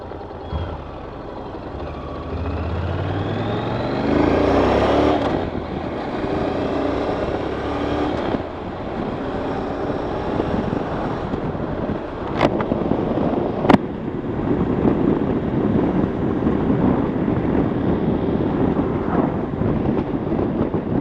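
Honda NC700X motorcycle engine droning under heavy wind rush while riding, a steady close broadband roar with a brief surge early on and a couple of sharp clicks midway.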